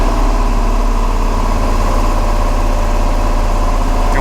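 A 1985 GMC Sierra 1500 pickup engine idles with a misfire, a steady, loud, close mechanical rumble with vibration running unbroken for about four seconds, no talking over it.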